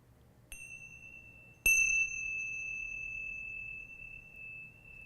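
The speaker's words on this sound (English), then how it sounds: "Let your attention ride on the sound of the chime." A meditation chime is struck twice, a soft first ding and then a louder clear ring that hangs in a long sustained tone, in a quiet room with no talking.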